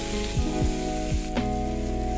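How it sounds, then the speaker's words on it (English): Pork sizzles with caramelized sugar as it is stirred in a pan, a constant loud frying hiss under a few quick scraping strokes, with a low steady hum in the background. "Keep mixing the pork until they get brown."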